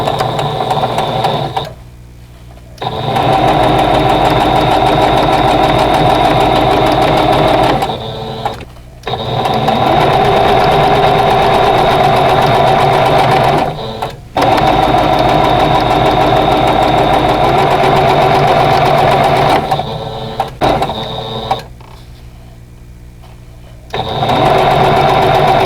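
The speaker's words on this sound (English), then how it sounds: "So I'm going to chain piece all of those together." A sewing machine chain-pieces the first rows of a Trailing Star quilt block, running loud and steady in long bursts with short pauses between pieces.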